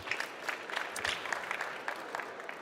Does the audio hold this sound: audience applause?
yes